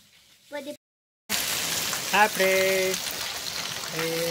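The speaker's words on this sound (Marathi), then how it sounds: "आज आमच्याकडे खूप दिवसानंतर पाऊस चालू झाला आहे" Heavy rain pours down in a dense, even hiss, broken by a moment of silence near the start, with brief voices speaking over it.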